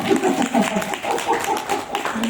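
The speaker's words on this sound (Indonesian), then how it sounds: "Tepuk tangan buat leader ya" A group at a training session in a Bali hotel claps for their leader, a lively patter of hands mixed with voices chattering over it.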